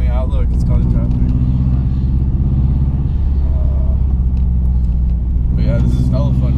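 A modified 2006 Subaru Impreza WRX with 270 horsepower rumbles steadily from inside the cabin while driving in traffic, and people talk over the engine.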